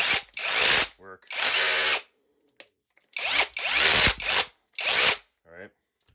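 Bauer 20V cordless SDS-Plus rotary hammer in trigger mode, revving in several loud bursts about a second long with short silent gaps between them.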